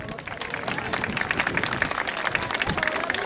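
Steady applause from a crowd at a medieval festival gathering in Erice, dense clapping sustained throughout with a murmur of voices mixed in.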